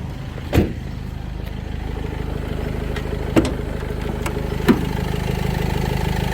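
An Opel Movano L3H3 van engine with low mileage idles steadily and smoothly with a low, even rumble, broken by a few sharp clicks.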